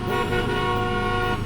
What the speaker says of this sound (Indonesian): Brian, Pak klakson, Pak! Klakson!